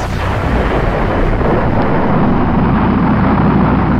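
A rocket launch roars in a steady, loud, broadband rumble right after a countdown, filling the whole stretch with continuous low thunderous noise and no voices.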